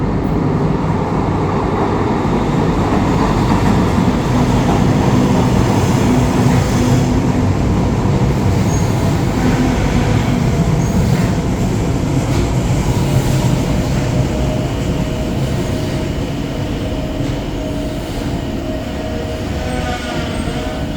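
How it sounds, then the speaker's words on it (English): A Newcastle Metro train rumbles into a station heading toward Sunderland, a loud, continuous rail roar and wheel noise that builds and holds steady for a long stretch without voices. "we're going to wait for our first metro to appear out of the gloom"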